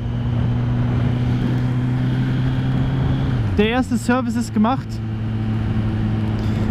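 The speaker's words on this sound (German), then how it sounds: "Der Motor wird langsam warm" Kawasaki Z900 2021 motorcycle engine running steadily while being ridden after its 1,000 km service, a continuous low hum under someone talking close by.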